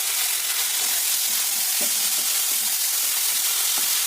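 Onion, ginger, garlic and green chillies fry in a pan with a loud, continuous sizzle, punctuated by a few soft stirring taps, with no voices.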